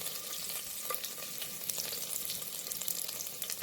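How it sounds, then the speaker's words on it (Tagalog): Garlic sizzling and frying in a pan for adobo, a steady dense crackle with bursts of spitting oil, close and continuous, with no talking. "piprito na naman tayo ng bawang dito sa kabila. Para ito sa adobo."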